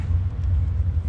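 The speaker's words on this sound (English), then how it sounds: "Cars are just rumbling around the track." Cars rumbling around a drag racing track at a dragway car show and test-and-tune day, a steady low engine rumble filling the short stretch without pause and without voices.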